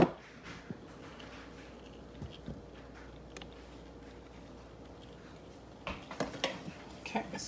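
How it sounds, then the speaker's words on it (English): A spoon mixes garlic butter mashed potatoes in a bowl, giving faint soft scraping and occasional light clinks against the dish, growing a little busier with a few sharper taps toward the end. "You mix it fast with a spoon."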